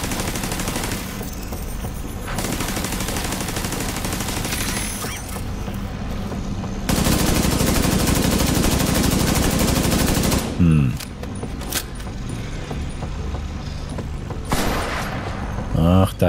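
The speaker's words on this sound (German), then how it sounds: "Irgendein Scharfschütze schießt hier noch." Gunfire rings out during a Division 2 mission as a sniper shoots, heard as long stretches of dense, loud, rapid shots with brief pauses between bursts and someone talking over the action.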